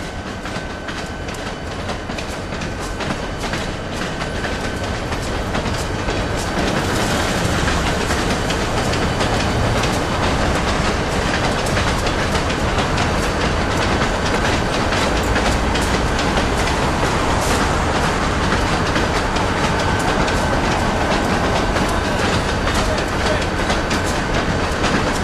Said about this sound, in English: This train's coming up out of Hub.